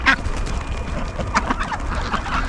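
Ducks quacking beside a newly dug pond, a few close, raspy quacks scattered over outdoor noise.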